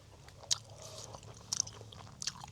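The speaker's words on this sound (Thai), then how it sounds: "กัดนิ่มๆเลยอ่ะเด้งชุ่มฉ่ำนะเนี่ย" Close, soft chewing of grilled beef tongue, with a few sharp bites and moist squelches spaced about a second apart over quiet background murmur.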